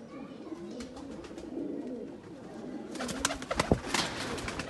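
Caged Ferozepuri pigeons cooing close by, soft rolling coos repeating steadily and growing busier toward the end, with someone talking faintly under them.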